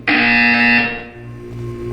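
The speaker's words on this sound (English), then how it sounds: "You will hear a buzzer." A loud, harsh electronic buzzer from the video game Portal 2 sounds once with a rich, steady tone for about a second, then decays into a lingering hum.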